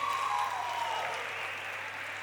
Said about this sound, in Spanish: aplauda a la gente que ha venido como mínimo una vez a vernos al irlandés.